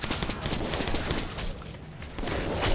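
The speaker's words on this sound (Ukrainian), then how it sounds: "Класно цими патронами так стріляти, я вам скажу." Dense, rapid bursts of gunfire in the video game Metro 2033 Redux crackle almost continuously, loud and close, with brief dips between volleys.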